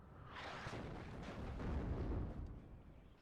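Artillery fire in the WARNO real-time strategy game: a deep, rumbling blast swells and rolls on for a few seconds, heavy in the low end, with no talk.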